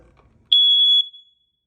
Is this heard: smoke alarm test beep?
yes